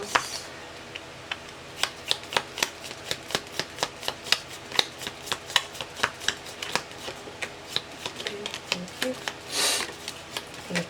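Tarot cards being shuffled by hand: a long, steady run of crisp, close riffling snaps and flicks, ending in a softer rustling sweep.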